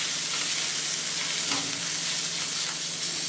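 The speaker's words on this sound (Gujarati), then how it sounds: "સવારે એ પલાળેલી ચણાની દાળને આ ઓનિયન સાથે સાંતળવાની" Soaked chana dal being sautéed with onions in a pan, giving a steady close sizzle with a stir or scrape around the middle and no talking.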